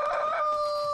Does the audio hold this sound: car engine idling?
no